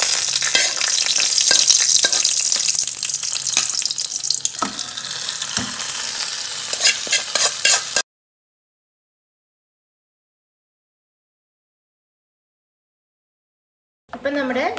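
Fried onion tempering sizzles loudly and close when poured into a prawn and ridge gourd curry, a dense crackling hiss with stirring that cuts off abruptly before a brief return.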